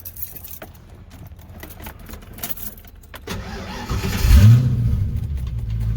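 A street/strip car engine, shown on street wheels and tires, cranks and fires up, then settles into a loud, steady warm-up idle with revs building, close to the microphone with no talking.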